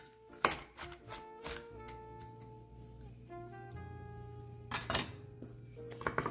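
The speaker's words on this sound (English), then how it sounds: "we are going to chop these nuts and layer some of the nuts on a part of this fudge" Knife chopping nuts on a board for keto fudge, a few sharp, irregular thwacks spaced across the moment, with a steady musical tone humming underneath.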